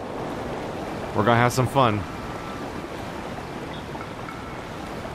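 Steady rushing river water while rafting downstream in The Legend of Zelda: Breath of the Wild, a continuous broadband wash with someone speaking briefly over it.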